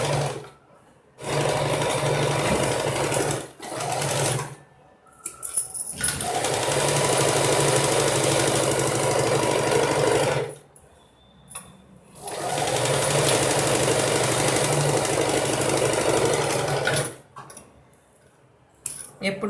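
A sewing machine stitching a sleeveless boat-neck blouse with a netted frill runs in three loud, close bursts of rapid whirring stitches, with short quiet pauses between the runs.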